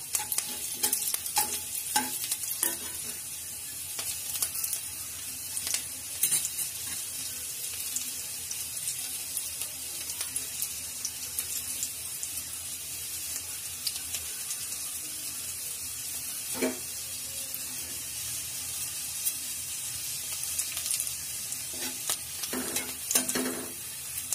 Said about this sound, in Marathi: लसूण, लसूण चांगला लालसर करून घ्यायचा।